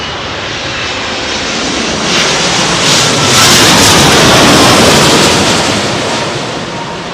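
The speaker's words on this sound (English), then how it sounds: "Oh, this is that China jet, isn't it?" A jet airliner arriving at London Heathrow Airport on a blustery evening roars loudly overhead, its broad engine rush swelling to a peak and then slowly easing, with no talking.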